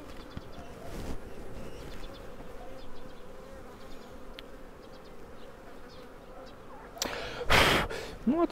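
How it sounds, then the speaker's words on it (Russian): Package bees at an apiary hive during an inspection hum in a continuous, close, steady drone, with a couple of louder breathy bursts near the end. "это пакетные пчелы"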